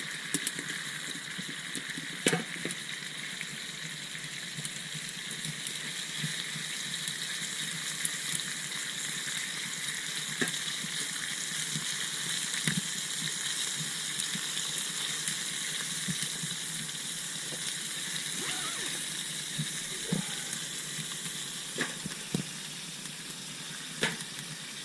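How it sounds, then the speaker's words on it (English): Garlic frying in a pan over a camp stove that cannot be turned down, at an early winter tent campout, giving a steady, close sizzle throughout with occasional faint pops and no talking. "And some garlic. It's going to cook really quick."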